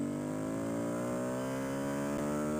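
Motorcycle engine accelerating in second gear during a dyno power run, a steady loud rising whine with the pitch climbing smoothly throughout.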